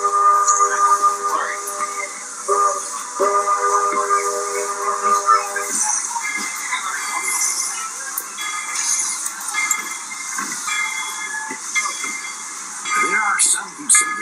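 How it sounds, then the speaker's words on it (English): The Walt Disney World Railroad steam train sounds a long, tonal steam whistle in its first few seconds, followed by a sustained, airy hiss of steam and rolling railcar noise, loud and close, with faint voices in the background. "This steam train is a little old-fashioned, but for me, it's the only way to travel."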